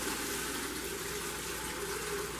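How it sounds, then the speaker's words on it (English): Rendered lard oil poured through a screen, a continuous liquid rush and gush at moderate volume with no break and no voices. "once you start to pour your oil"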